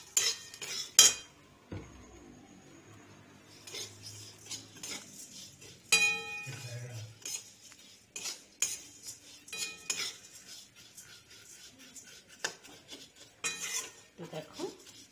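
A spatula clinks and scrapes around a pan of frying food in a home kitchen: sharp metallic taps and stirring strokes come in irregular bursts, with quiet gaps and a faint sizzle underneath.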